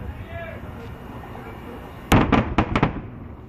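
Fireworks and firecrackers bursting at an Eid al-Fitr celebration in Riyadh: a loud sharp crack followed by several rapid pops and bangs, over a steady background of crowd chatter.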